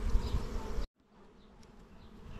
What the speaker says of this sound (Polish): No wszędzie są pszczoły